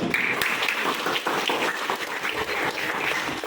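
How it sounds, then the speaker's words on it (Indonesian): Group applause at a classroom presentation event, a dense steady patter of many hands clapping at moderate volume throughout, with no talk over it. "Beri aplaus untuk kelompok 1."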